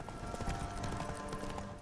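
Hooves of Roach, a horse in The Witcher 3, clip-clop steadily at a walk, close and moderately loud over a low, busy game ambience, with no talking.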